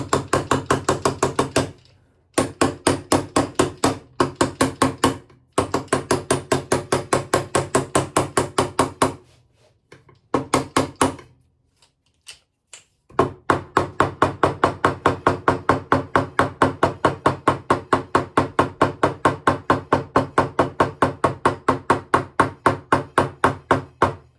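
A part is tapped into a 1950s Armin Paulus archtop guitar with a hammer in steady, rapid runs of sharp knocks, broken by short pauses, then a long even series near the end, close and clear with no voices.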